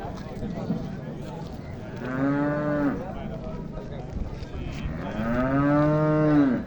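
A buffalo lets out two long, deep lows, each drawn out and swelling, with faint background murmuring in between.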